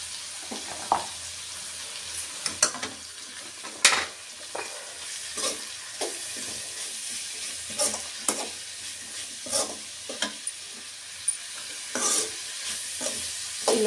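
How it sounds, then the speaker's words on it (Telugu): Chopped palak spinach with a little turmeric fries in hot oil in a pan, a soft steady sizzle broken by regular scraping stirs of a spoon, close and fairly quiet with no talk. "ఇలా పాలకూరకు ఆయిల్లోనే వేగనిస్తాము."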